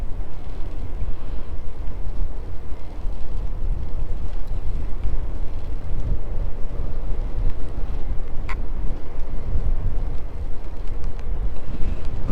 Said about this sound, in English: the wind's really picking up now